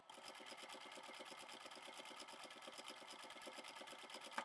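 A sewing machine stitches through layered fabric along an edge, running steadily at a fast, even rhythm of needle strokes for the whole stretch, close and continuous with no talking.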